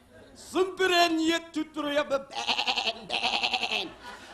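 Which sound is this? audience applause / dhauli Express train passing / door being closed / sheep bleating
sheep bleating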